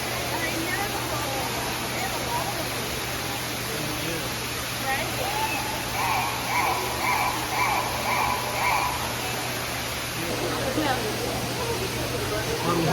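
A waterfall at an indoor attraction on a Houston outing gives a constant broadband rush of falling water, steady and moderately loud, with faint voices of visitors mixed in.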